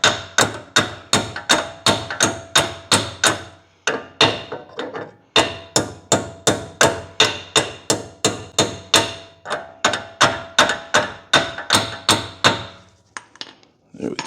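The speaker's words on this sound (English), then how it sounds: "and then hammer the pins in place." Repeated sharp metallic hammer strikes driving brake pad pins into place on a BMW 340i rear M3 brake upgrade, in steady, rapid runs, a few pauses between bursts, close and loud with no talking.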